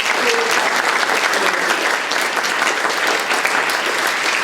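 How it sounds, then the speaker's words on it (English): Sustained applause from an audience at a hall of fame awards presentation, steady dense clapping throughout with no pauses, fairly loud and close. "Please, a well-rounded applause for these 3."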